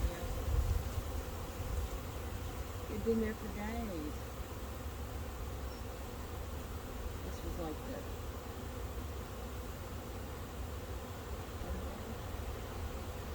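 A honeybee swarm moving into a swarm trap outdoors, producing a steady, dense buzzing drone that persists throughout, with people talking quietly over it.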